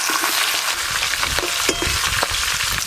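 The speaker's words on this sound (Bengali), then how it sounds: "মাছের মাথা একদম লাল করে মচমচে করে ভাজতে হবে" Head of a large katla fish frying until crisp in hot oil. A dense, loud sizzle crackles throughout, with small spatters and stirring knocks. No one talks.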